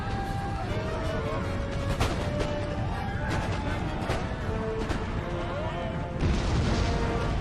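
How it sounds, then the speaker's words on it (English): Cannon artillery fire pounds a fortress wall during a battle in Empire: Total War, with repeated booms and crashes over a dense, continuous din of game combat and gunfire. "We should have enough cannons on target of this wall to take it out."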